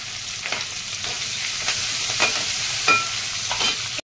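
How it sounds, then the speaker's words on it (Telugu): Onion, green chillies and curry leaves fry in hot oil with cumin, asafoetida and dried red chillies, giving a dense, steady sizzle with a few soft stirring scrapes. The sizzle cuts off abruptly near the end. "మనం కట్ చేసుకుని పెట్టుకున్న ఉల్లిపాయ వేసుకుందాం. పచ్చిమిర్చి,"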